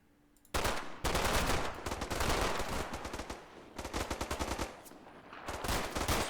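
Gunfire from a Combat Mission World War II battle game at the bridge at Varaville: loud bursts of machine-gun and rifle fire in rapid volleys, with brief pauses between clusters of shots, heard alone without talk.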